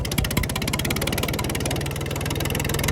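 A Yanmar/Escorts-brand farm tractor engine running steadily close by, a loud low rhythmic diesel thrum with a fast even chug and no talking.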